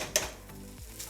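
Tomato paste cooking in a pan for shrimp arrabiata, a soft steady sizzle with one brief sharp clink early on.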